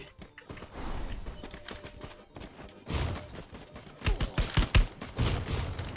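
Gunfire in a video game, bursts of sharp rapid shots with a loud flurry near the end, mixed with other game sounds.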